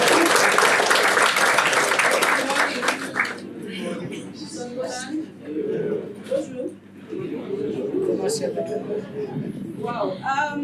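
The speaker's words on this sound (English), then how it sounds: "You can clap now." Audience applause at a University of Johannesburg and French Embassy sports day, a dense burst of clapping for about three seconds that fades into murmuring and talk.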